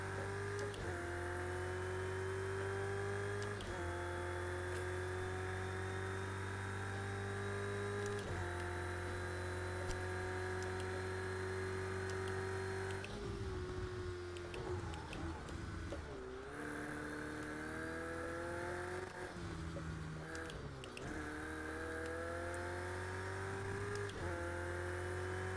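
A race car engine in Project Cars 2 holds a steady, loud drone, with gear changes and revving swells near the middle before it settles back into a sustained whine.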